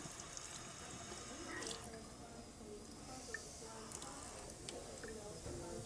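Cold water running from a tap into a measuring scoop in a dental setting, a faint trickling and splashing that sits low in the mix with some soft handling noises.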